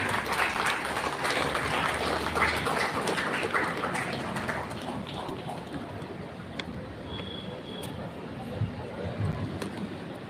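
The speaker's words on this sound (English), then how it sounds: "Let's give them a big round of applause." An audience claps at a school investiture ceremony during a best-school trophy presentation. The applause is moderately loud and dense at first, then thins and fades into faint scattered claps and room noise.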